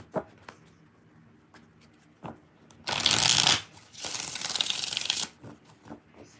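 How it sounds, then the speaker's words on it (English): Tarot cards being shuffled, two loud bursts of riffling flutter, the first about a second long and the second longer, set between soft taps and handling sounds, no talk. "Four shuffles."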